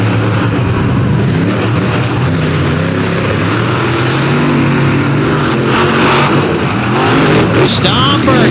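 Outlaw monster trucks Stomper and American Scout, both wheelie machines, roar loudly together at the start of a drag race, their engines a dense sustained rumble with rising revs and a commentator talking over them.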